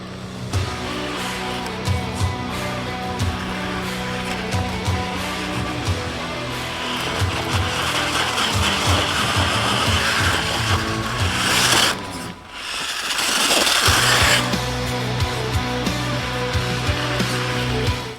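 An Axial Capra RC rock crawler drives over an obstacle, its motor whining steadily with gritty scraping and rubbing against the terrain, loud and close with no talk, and a brief drop in the noise near the middle.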